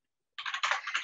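Keys on a computer keyboard clatter in a quick run of close taps as a command is typed, starting after a short silence and continuing to the end, with no voices.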